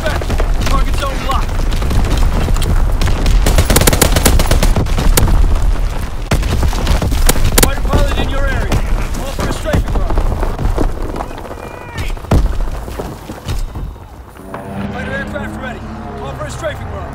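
An artillery battery fires a barrage in Call of Duty: WWII, with loud, dense booms and rumbling blasts in rapid succession and a voice speaking over them, easing off near the end.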